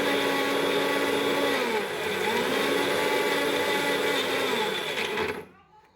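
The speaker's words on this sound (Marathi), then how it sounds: "आणि आता आपण हे भांड मिक्सरला" A kitchen mixer grinder blending fresh coconut chutney whirs loudly and steadily, its motor pitch dipping briefly, then cuts off abruptly near the end.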